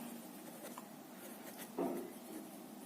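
Chalk or marker scratching across a board during a maths lecture, a few short faint strokes close by, with no talking.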